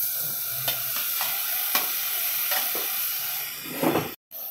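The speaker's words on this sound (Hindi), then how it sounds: "अब हम इसमें 1/2 किलो चिकन को अच्छी तरह से वॉश करने के बाद ऐड कर देंगे।" Half a kilo of washed chicken goes into a pan of frying ginger and garlic, giving a continuous loud sizzle and hiss with scraping stirring strokes, then a brief cut in the sound.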